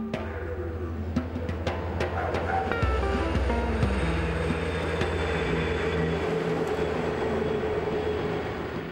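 Heavy road trains rumbling past on a remote Australian desert road, a loud continuous low roar with rolling engine drone and a shift in pitch as one goes by, no talking.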